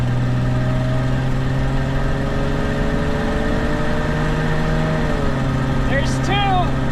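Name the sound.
Ford Bronco II automatic transmission shifting gears while accelerating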